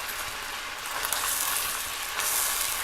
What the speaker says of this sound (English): You can hear that I've got the oil going pretty well in there.